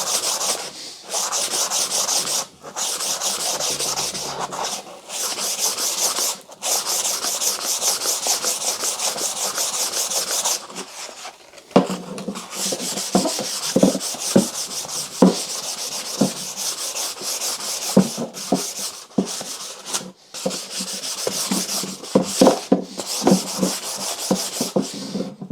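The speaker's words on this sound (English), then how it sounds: "Just wrap it around a sanding sponge like that." Sandpaper wrapped around a sanding sponge rubs steadily along a wooden garden tool handle, a close, continuous scratchy rasp in long strokes with brief pauses between passes.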